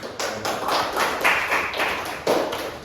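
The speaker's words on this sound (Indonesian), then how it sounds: "Berikan tepuk tangan" Students in a classroom clap after a group presentation, a brief ragged patter of hand claps and taps at moderate loudness that rises, thins out, then picks up again near the end.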